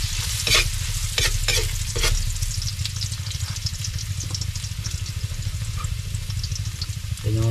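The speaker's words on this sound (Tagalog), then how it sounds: "magigisa na tayo ang luya at saka bawang sibuyas" Ginger, garlic and onion sautéing in a pan for kaldereta crackle loudly and close, with several quick scraping stirs early on over a low, steady hum.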